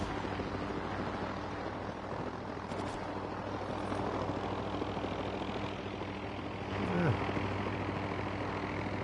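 Helicopter hovering in a video game, a steady distant rotor and engine drone holding level throughout, fairly quiet, with a brief swelling whoosh near the end.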